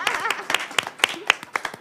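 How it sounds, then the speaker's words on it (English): Scattered audience clapping at a panel discussion on Octavia Butler, a few distinct claps roughly every quarter second, with light chuckling and talk underneath. "a round of applause for you all for showing up"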